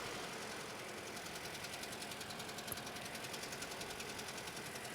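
A Scion car engine idling with a cylinder misfire, a steady close mechanical drone with a rhythmic uneven stumble and ticking pulse repeating throughout.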